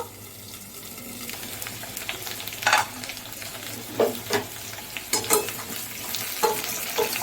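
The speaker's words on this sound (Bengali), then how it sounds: "দেখুন প্রায় ভাজা ভাজা হয়ে এসেছে আমার আলু আর পেঁপেগুলো" Chunks of potato and papaya sizzle in an oil-filled pan, sometimes covered by a lid, with a constant close frying hiss and several louder scraping stirs toward the end, with no voices.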